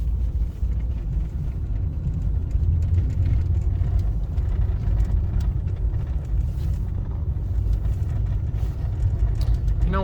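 A car drives along a back country road in Idaho, heard from inside as a steady, loud low rumble of engine and tire noise that runs unbroken from start to finish.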